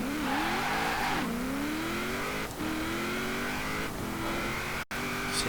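A 2002 Mazda RX-7 Spirit R Type-A in Forza Horizon 4 accelerates hard, its rotary engine rising steadily in pitch through several gear changes with brief dips between shifts, loud and continuous throughout.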